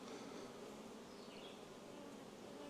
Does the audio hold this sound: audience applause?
no